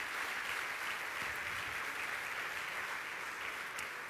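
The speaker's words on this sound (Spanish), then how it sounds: "Denle un aplauso al Señor." A church congregation claps in steady, dense applause throughout, a continuous wash of many hands at even loudness with no talk over it.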